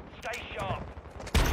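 Shotgun blasts in the video game Warzone 2.0, with a sharp, loud report near the end of the clip after a stretch of game noise and faint talk.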